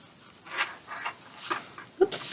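A pencil eraser rubs on drawing paper in a few short, quiet strokes close by, ending with a brief light scuff of paper.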